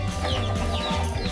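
A chicken with a respiratory illness clucking nearby in short, repeated raspy sounds over a dense farmyard background.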